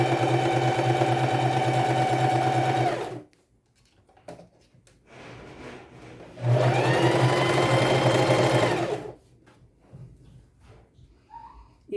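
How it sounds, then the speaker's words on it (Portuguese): A sewing machine runs in two bursts of fast, steady stitching, each a few seconds long with a quiet pause between them, as it sews elastic down on a bodysuit. "eu vou fazer uma costura de um lado ao outro para rebater o elástico tanto nas costas quanto no meio das pernas"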